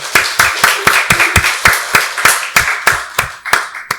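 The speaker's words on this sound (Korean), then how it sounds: "박수로 하나님께 영광 돌리겠습니다" Steady rhythmic clapping from a church congregation during a Sunday worship service, about four claps per second, loud and close, with no voices over it.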